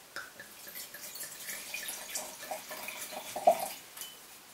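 Muscat wine from a Crimean winery in Sevastopol pouring into a glass, a quiet liquid trickle with small drips and splashes building to a brief louder splash near the end, with no talk.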